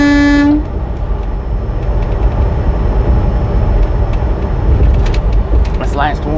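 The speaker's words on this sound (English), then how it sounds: "I just give you a honk, man." A semi truck's air horn gives a brief loud honk at the start, followed by the steady heavy rumble of the truck cruising on a highway in Colorado.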